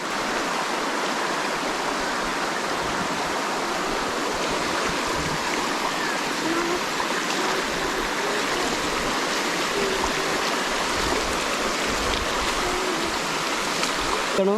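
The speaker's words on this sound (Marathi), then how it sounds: "ह्या साईडने पाणी जातोय खाली" Constant rushing and gurgling of a flowing river stream, steady and full throughout, with faint voices now and then.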